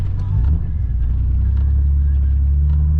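A Nissan 300ZX drives through a blizzard, its engine a loud, steady low drone from inside the cabin with a slight rise early on, and a voice faintly present beneath.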